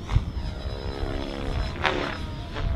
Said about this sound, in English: It's our newest helicopter. It's an entire new design with a carbon monocoque frame.